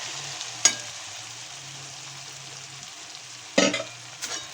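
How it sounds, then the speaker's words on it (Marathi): Okra tossed into fried chili thecha in a pan, with a steady low sizzle, a quiet stir at the start and a louder scrape or clatter near the end. "त्याच्यामध्ये आपण ही भेंडी टाकू"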